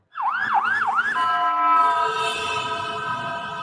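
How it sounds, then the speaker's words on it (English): An ambulance siren passes on a city street, its rapid rising-and-falling wail cycling several times before settling into a steady tone over rumbling road noise. "one more ambulance there passing by"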